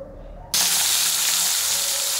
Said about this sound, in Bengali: এবার কড়াইতে তেলও দিয়েছি মাছের মাথাগুলো ভাজার জন্য।